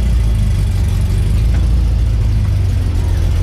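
Engine of a 1971 bus droning loudly and steadily on a test drive, a deep heavy rumble filling the whole stretch with no breaks and no talk.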